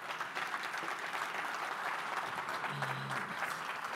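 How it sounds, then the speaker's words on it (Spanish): An audience applauds at the AmCham Summit 2022 interview, a steady wash of clapping that holds evenly for a few seconds, fairly faint and distant. "le damos un aplauso a Sergio, que está con nosotros."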